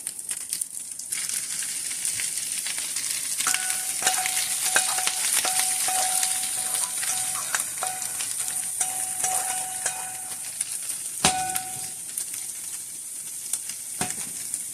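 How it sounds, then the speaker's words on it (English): Beef and vegetables for a Philly cheesesteak sizzle steadily in a hot pan, with a busy frying hiss throughout, some stirring and scraping, and a couple of sharper clanks near the end; no one talks. "I'm going to throw my veggies back into the meat here."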